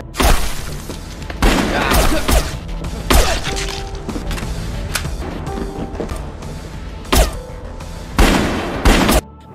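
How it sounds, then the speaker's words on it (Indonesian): Loud, sharp gunshots crack out in irregular bursts during a shootout, with booming impacts and shattering between shots. "kemudian terlibat baku tembak dengan anak buah Yuri yang menyerangnya secara bersamaan"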